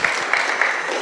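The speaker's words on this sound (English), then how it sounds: "A round of applause for Daktari." Brief burst of audience applause at a strategic plan validation workshop in New York City, a dense, steady wash of clapping lasting about a second with no voices on top.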